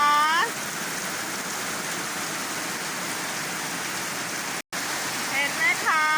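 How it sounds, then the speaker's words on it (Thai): Heavy rain pours down at a farmhouse, a dense, steady hiss of water on surfaces filling the whole stretch, with a brief dropout and a voice faintly heard at the edges. "ฝนตกหนักมากเลยค่ะ"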